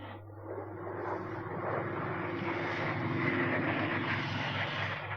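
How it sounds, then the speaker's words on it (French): Airplanes passing over an apartment building make a steady, loud engine roar that swells slightly and holds for the whole stretch, with no voices. "Des avions passent au-dessus de l'immeuble de Monsieur et Madame Martin."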